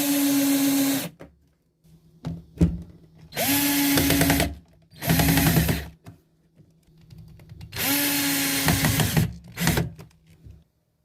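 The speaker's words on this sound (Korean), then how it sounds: "여기 경첩 피스 박는 부분에 피스를 박아서 문을 고정시켜 줄게요." A power drill drives screws through hinges to fix a cabinet door on an old shelving unit being refurbished, with four loud whirring bursts of one to two seconds each, separated by quiet gaps and short clicks.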